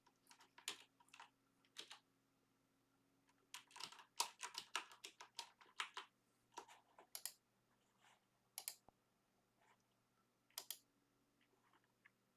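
Typing on a computer keyboard while testing a Flutter app: quiet, close keystrokes arrive in irregular bursts and pauses, over a faint low electrical hum.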